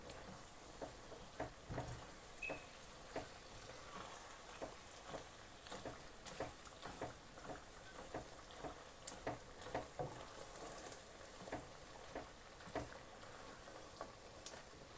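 Semolina and sugar roast in a pan over low heat for makhandi halwa, a steady soft sizzle with regular light scraping and stirring ticks, close and quiet throughout with no voices.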